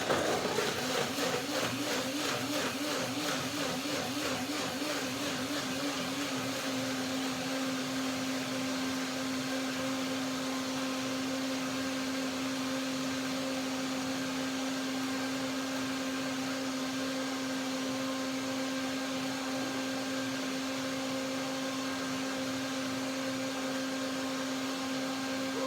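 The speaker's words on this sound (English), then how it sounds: "So I'll just blend it now." A kitchen blender purees fruit for a cherimoya pudding topped with pears, a loud steady motor whine that wobbles briefly at the start and then settles into an even drone with no talk.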